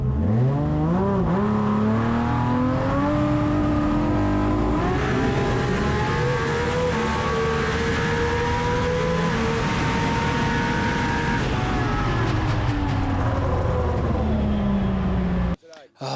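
A drag racing car with a new D&D Engines combination screams under hard acceleration at a Brisbane jamboree, its loud sustained engine note climbing and then falling across a long run before cutting out abruptly.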